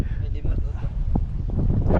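Strong wind buffets an outdoor spot on a visit to a fishing structure, roaring steadily as broadband rumble and microphone buffeting, with people talking nearby throughout.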